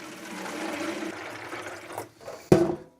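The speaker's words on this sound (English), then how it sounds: "Then we're going to pour this in the container that we're sanitizing" Bleach solution is poured into a water container being sanitized, a gurgling splash that runs for a couple of seconds before a sharper slosh at the end.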